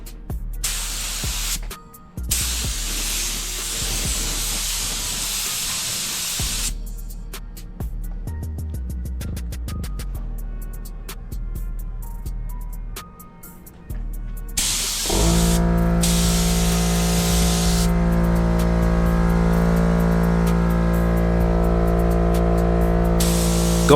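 Paint spray gun at about 29 psi coating a custom car stereo enclosure, a steady close hiss in long bursts separated by pauses, then a sustained hum with ongoing spray, no talking.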